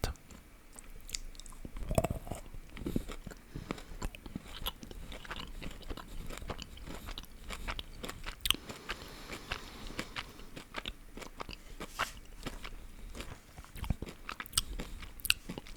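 Crunchy Charles Chocolatier Paris chocolate with a crisp, biscuit-like layer is bitten and chewed close to the mic, with repeated sharp crunches and soft mouth sounds in a quiet room.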